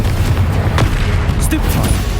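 Spell impacts in the Hogwarts Legacy video game land as a quick series of booms and sharp bursts during a combat trial. A voice calls out alongside the hits.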